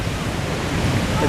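Surf breaks against a lava rock coastline on Maui in a loud, continuous broadband roar of churning water, mixed with wind buffeting the microphone.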